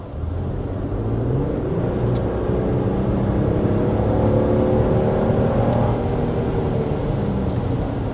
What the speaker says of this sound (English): Even once you're already going pretty fast, you can really get that kick down from the 10-speed automatic transmission